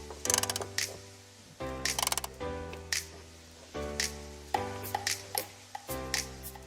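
A ratchet wrench loosens a 12mm bolt on a 2006-2011 Honda Civic, with bursts of quick metallic clicking in several close, distinct strokes separated by short pauses.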